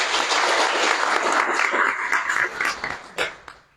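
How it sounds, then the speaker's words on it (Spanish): Audience applause at a book presentation on human rights principles in the Tseltal language: dense clapping fills the room, then thins into scattered claps near the end. "Fuertes aplausos, por favor."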